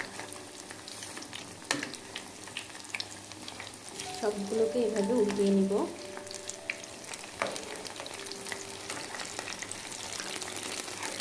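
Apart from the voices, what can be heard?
cauliflower pakoras frying in hot oil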